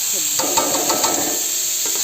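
Steady sizzling of figs frying in hot oil, with a spoon scraping and stirring through it, no talking.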